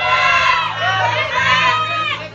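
A crowd shouts and roars continuously at a rap battle, a dense wall of many excited voices close by with no break.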